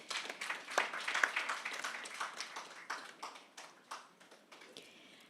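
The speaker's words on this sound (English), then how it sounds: "A round of applause." Applause from an audience at the launch event of a flagship report, a soft, distant patter of hand claps swelling and fading in uneven bursts over several seconds.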